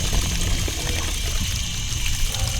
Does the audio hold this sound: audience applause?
no